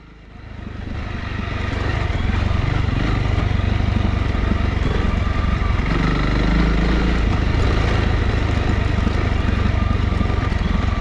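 A motorcycle rides steadily along a rough green lane in Cornwall, its engine rising from a quieter start to a loud, continuous drone that holds close and even throughout, with no talk over it.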